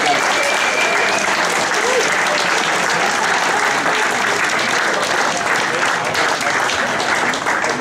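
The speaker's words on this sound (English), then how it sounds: "We should give another round of applause for our greatest ever 11, plus the manager, Jimmy, and George" A gala night crowd celebrating Carrick Rangers' 75th gives a loud, sustained round of applause for the club's greatest-ever eleven and their manager, dense and unbroken throughout with no voices.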